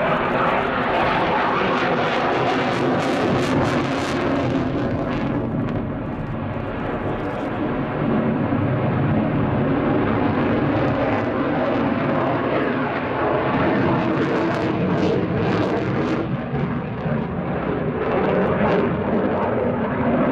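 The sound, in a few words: Belgian Air Component F-16AM Fighting Falcon jet flying display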